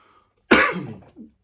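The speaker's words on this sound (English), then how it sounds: "Another cough." A single sharp cough close by, followed by a short, softer rasp.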